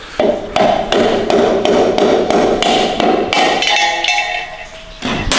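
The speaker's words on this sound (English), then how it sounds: "Tap on it a little bit, and it pops right out." Sharp hammer taps on a 68RFE transmission front pump to loosen its seal, about eight loud metallic strikes in a steady rhythm, close and alone with no talking.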